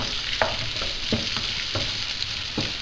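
Thick, chunky pieces fry in a pan toward brown and crispy, a steady sizzling hiss broken by several soft clunks of stirring at irregular intervals.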